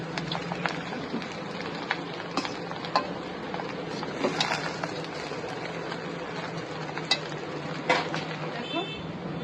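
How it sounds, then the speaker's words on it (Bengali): A spoon stirs prawn egg rice, with fried prawns and scrambled egg mixed in, around a hot pan. Gentle sizzling runs under scattered scraping clicks, and a voice talks over it. "আর 2-3 মিনিট এটাকে ভালো মতো একটু মিশিয়ে নেব।"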